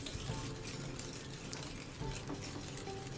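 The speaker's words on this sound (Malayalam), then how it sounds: "ഇനി ഇതും കൂടി നന്നായിട്ട് അങ്ങ് മിക്സ് ചെയ്ത് കൊടുക്കുക" Cupcake batter being mixed after a tablespoon of vanilla essence is added, heard as a steady, close stirring and scraping that keeps going without a break and has no talking over it.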